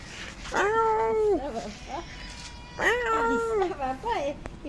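A cat on a street in Dubrovnik meows twice, drawn-out and insistent, with a short pause between cries and brief chirps and murmurs in between.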